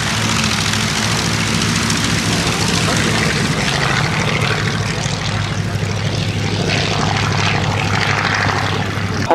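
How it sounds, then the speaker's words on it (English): A propeller aircraft takes off at the East Kirkby airshow with a loud, steady engine roar and deep droning propeller hum held throughout, close and dominant. "Up goes the tail, strong goes the throttle"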